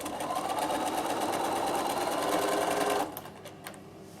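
Close, steady whir of a sewing machine stitching a strip of fabric for about three seconds, then stopping abruptly, leaving light handling clicks.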